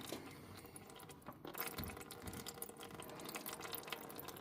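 Engine oil trickling steadily out of a Saab 9-3 during a service, a continuous soft watery patter and drip that runs unbroken throughout.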